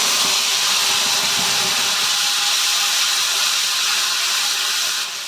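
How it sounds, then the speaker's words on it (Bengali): Chili, tomato and garlic paste frying in hot oil tempered with black cumin, a loud, steady close-up sizzle and hiss that holds throughout and eases slightly at the end. "আমি বেটে রাখা কাঁচা লঙ্কা, টমেটো আর রসুনের পেস্টটা এখানে দিয়ে দেব।"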